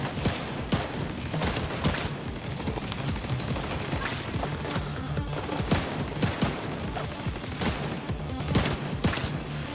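An automatic turret in the shooter game Tom Clancy's The Division 2 fires rapid bursts, mixed with a dense, overlapping stream of gunfire that keeps cracking and rattling for the whole stretch without speech.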